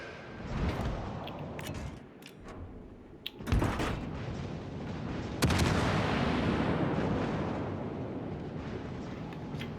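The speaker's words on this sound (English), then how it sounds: "The guns are pretty powerful" Heavy warship guns in a naval battle game boom out in a few powerful salvos, each a sharp blast that rolls into a long rumbling decay, loud and close with no talk over them.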